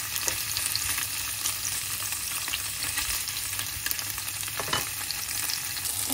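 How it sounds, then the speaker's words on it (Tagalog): Tofu sizzles and crackles steadily in hot oil in a pan, a dense continuous frying hiss with a few sharper pops and stirring scrapes, close and fairly loud throughout with no talking. "Ipiprito ko to. Init na, tapos ilalagay ko na tong tofu, guys."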